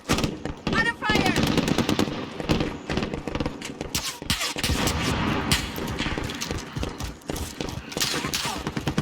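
Heavy automatic gunfire in the battle royale game Call of Duty Warzone, dense rapid bursts of shots that keep rattling loud and close throughout.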